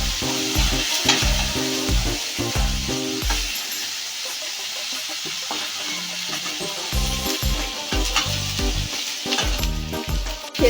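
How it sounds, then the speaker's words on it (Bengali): Boiled potato and jackfruit are stirred into a frying mix of ginger, garlic and tomato, producing a loud, steady close sizzle broken by rhythmic scraping stirs of a spatula in the pan, with no talk. "সেদ্ধ করে রাখা আলু আর এঁচোড়, আলু আর এঁচোড়টাকে নাড়াচাড়া করে সবকিছুর সাথে মিশিয়ে নিচ্ছি।"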